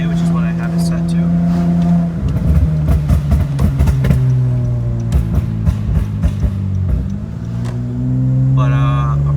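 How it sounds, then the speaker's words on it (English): A Honda Accord V6 with a pop and flame tune drones along, then decelerates with a rapid burst of sharp exhaust crackles and pops, loud and close, before the engine note settles again; someone talks over it. "still popping a lot. Probably because the exhaust is hot"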